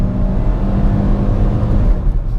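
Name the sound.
Chevrolet Prisma LTZ automatic accelerating and shifting gear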